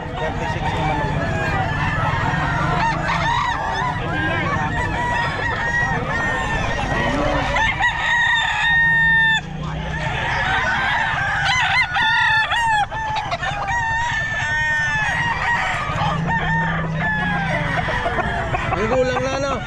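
Several roosters crow repeatedly at a pet market, some near and some farther off, while hens cluck throughout and people talk in the background.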